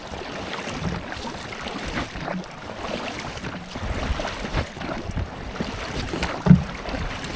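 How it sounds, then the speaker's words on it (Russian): An oar rows a small boat through shallow water, catching on weeds and pebbles, with steady splashing and sloshing strokes under gusting wind on the microphone. "Весло цепляет периодически траву и камушки."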